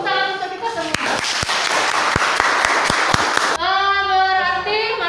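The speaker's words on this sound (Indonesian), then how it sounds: "tepuk tangan untuk kita semua" Clapping from a classroom of students rises briefly between a teacher's talk, a short burst of applause under the lesson's spoken close, with voices heard before and after.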